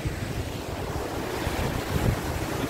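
Wind blows steadily by a river outdoors, a loud, rumbling, gusty roar buffeting the microphone, with no voices.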